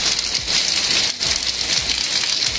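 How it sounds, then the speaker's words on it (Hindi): Heavy monsoon rain pours down on a drive to Barot valley, a dense, steady hiss of drops drumming on surfaces, loud and unbroken with no voices. "अच्छी खासी बारिश हो रही है पूरी तेज।"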